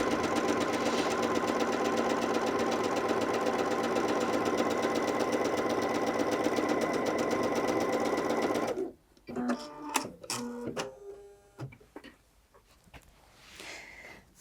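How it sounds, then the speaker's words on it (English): A Bernette b77 sewing machine runs steadily through two layers of fabric, a loud continuous mechanical whir for several seconds that stops abruptly, followed by a few small clicks and handling sounds. "So let's pop the fabric underneath and sew through 2 layers"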